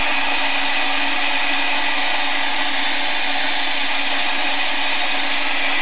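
A hair dryer blows at close range in a steady, loud whoosh as it dries a fresh watercolor painting, a sketch of hair. The airflow holds unchanged for several seconds, with no voices over it.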